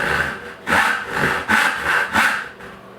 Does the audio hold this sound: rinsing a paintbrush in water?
no